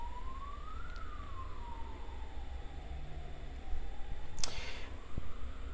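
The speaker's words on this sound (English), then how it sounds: "there's a siren going off" A wailing siren rises and falls slowly in the distance over a steady background hum, with a brief rustling burst partway through.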